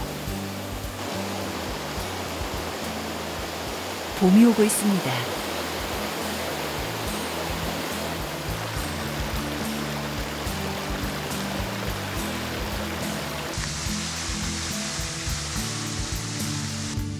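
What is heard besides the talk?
Yongchu waterfall pouring strongly with snowmelt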